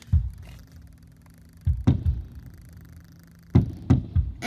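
Fireworks bursting at a Robbinsville Day community show, deep distant booms arriving in loose clusters of two or three, separated by quieter stretches of low rumble.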